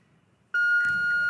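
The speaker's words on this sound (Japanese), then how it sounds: "そして今ブザーが鳴りました" A steady electronic buzzer tone cuts in abruptly at the end of a futsal match and holds, with faint crowd noise underneath.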